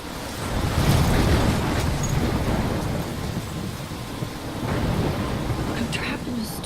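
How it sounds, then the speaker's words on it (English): A thunderstorm in the video game Life is Strange: heavy rain and rolling thunder form a loud, steady roar, with surges near the start and again later. There are also a few faint higher crackles. "I'm trapped in a storm?"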